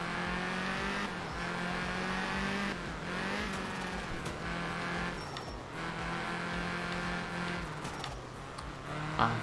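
A rally car engine in the video game Art of Rally drones steadily with repeated dips in pitch as it decelerates, tires hissing, a continuous loud roar with no talk.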